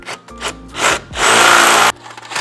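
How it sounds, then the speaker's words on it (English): A drill bit rolled around inside a freshly drilled hole in a 2019+ Mercedes Sprinter door, reaming the edges for a rivet nut; close, rough grinding bursts with a sustained stretch of rasping in the middle, no talk. "all I'm doing is just kind of rolling the drill bit around just to kind of clean up those edges a little bit"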